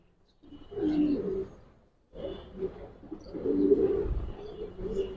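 Old-breed Giribaz and Pagla Khaki pigeons coo inside a loft, two distinct bouts of throaty, rolling calls separated by a brief pause, close and fairly loud against a quiet background.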